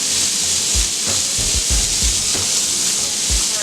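Burgers sizzle on a Steelmadeusa grill with a loud, steady close-up hiss, broken by a few low scraping or shifting thumps.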